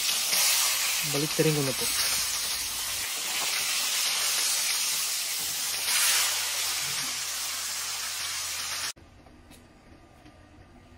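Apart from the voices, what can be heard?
tilapia fish frying in oil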